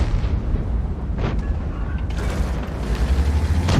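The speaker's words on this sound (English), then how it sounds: "The Arty just scored a bombardier! Took out 2 tanks with 1 shot." An artillery shell bursting in World of Tanks, a heavy boom and rumble among ongoing tank battle noise and mechanical clatter, with a few sharp cracks, no speech.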